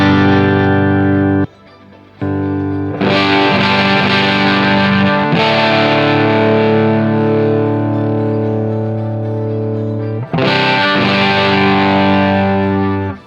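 A heavily distorted electric guitar through a Neural DSP Quad Cortex amp modeler plays sustained, crunchy chords loudly with no voices, pausing briefly before ringing out again.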